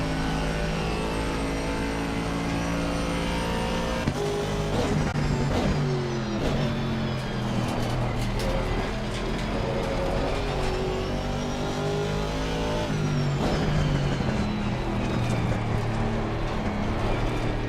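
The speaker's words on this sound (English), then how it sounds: "I love the sound in this game. The rattling in the car, the engine sound." Car engine in the Forza Horizon 6 racing game, a continuous loud droning roar with shifting revs and gear changes, joined by cabin rattling, heard alone without talk.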